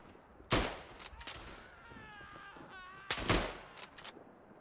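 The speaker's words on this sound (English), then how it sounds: "Artillery, 3-round burst, 3-round barrage on these coordinates." Artillery barrage in the World War I shooter Tannenberg: two heavy, booming explosions about three seconds apart, with smaller blasts and scattered gunfire between them.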